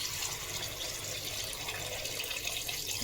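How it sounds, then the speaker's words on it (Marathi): Water pours into a pan of village-style country chicken curry, a steady rushing splash that holds evenly for about three seconds at close range, with no speech. "तर आता थोडं पाणी घालूया."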